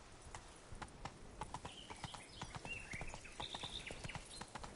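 Roach, the horse in The Witcher 3: Blood and Wine, gallops with steady, rapid hoofbeats. The clip-clop is fairly quiet and continuous, and faint bird calls sound in the background.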